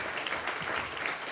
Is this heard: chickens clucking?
no